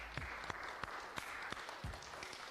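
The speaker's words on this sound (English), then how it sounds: "do you want to just give them all a big round of applause for me and welcome them in?" Applause welcoming Wales women's international rugby players at a gathering, a small group clapping at a distance, faint and thin, with a few distinct louder claps standing out.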